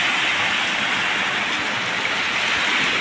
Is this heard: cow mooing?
no